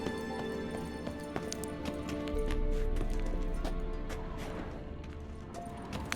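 Kelpie, a horse in The Witcher 3, gallops with a steady stream of hoof clip-clops over game music and ambient sound.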